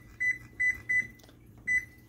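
A kitchen timer is set while Italian beef simmers on the stove: four short, quiet electronic beeps at uneven intervals over a low background hum.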